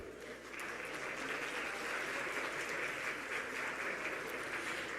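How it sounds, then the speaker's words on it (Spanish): A conference audience at a national tourism forum applauds warmly, steady dense clapping that swells after a brief quieter start and holds evenly, filling the room with no voices over it. "Un fuerte aplauso, por favor"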